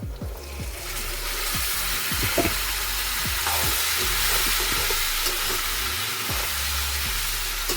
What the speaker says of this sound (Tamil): தனி அவிச்சு வடிச்சு வச்சிருக்கிற இந்த கடலையை இதோட சேர்த்து கிளறப்போம்